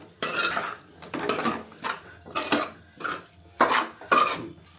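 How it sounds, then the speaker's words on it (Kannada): Spatula or spoon scraping and clattering in a pan while egg fried avalakki (beaten rice) is mixed, a series of about seven sharp, close bursts in an irregular rhythm. "ನೀಟಾಗಿ ಪಚ ಪಚ ಪಚ ಪಚ ಪಚ ಅಂತ ಮಿಕ್ಸ್ ಮಾಡು."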